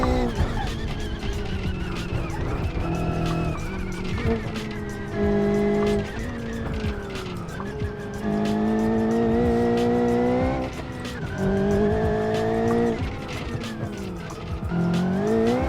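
Race car in BeamNG.drive braking and squealing its tires: a loud, continuous engine drone with pitch rising and falling through shifts, with squeal layered over it as the car brakes into corners.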